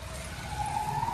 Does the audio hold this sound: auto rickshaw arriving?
yes